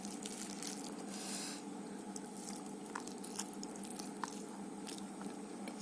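Someone eats rice with a boiled egg at a morning meal, giving soft, close chewing and squishy bites. A few faint crunchy clicks are heard, with no talk.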